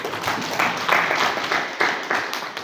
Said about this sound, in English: request everybody here that we again thank God by clapping